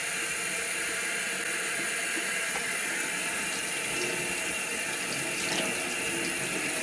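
A pineapple is washed under a running kitchen tap, making a continuous close gush and splatter of water that holds steady throughout without speech.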